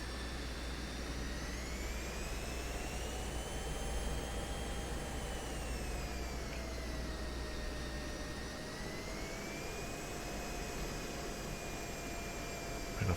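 F-16 jet taxiing in the DCS flight simulator, a steady loud turbine whine and roar with high tones that slowly rise and fall in pitch, continuous throughout.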